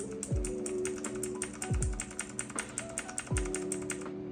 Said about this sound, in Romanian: După ce îl porniți, începeți să apăsați pe tasta Delete.